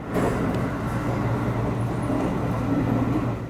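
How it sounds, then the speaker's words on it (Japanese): Steady low rumble of a train on the Mino-Akasaka branch of the Tokaido Main Line rolling along the rails, slowing down, continuous and fairly loud throughout with no voices. "列車のスピードが落ちます"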